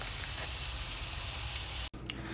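A bone-in ribeye steak sizzles loudly on an outdoor grill at night just after flipping, a steady close hiss that cuts off abruptly near the end.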